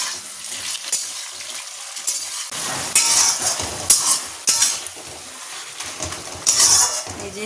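Potatoes for aloo bhaja fry in a pan with a continuous crackling sizzle, interrupted by louder bursts of spatula scraping and stirring clatter.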